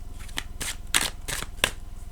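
A deck of playing cards being shuffled by hand, several quick riffling bursts in an uneven rhythm, close and fairly loud, with brief gaps between the riffles.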